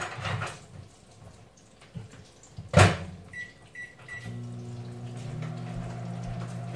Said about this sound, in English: I'm just going to take the chill off this in the microwave.